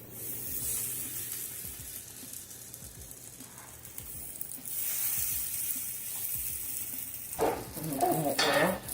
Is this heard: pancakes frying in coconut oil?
yes